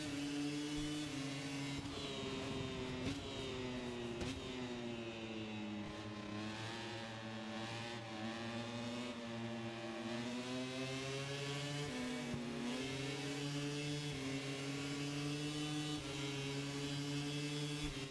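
MotoGP bikes in the MotoGP 25 video game roar at a race start, several engines droning and revving together at high pitch, rising and falling as they run toward the first turn.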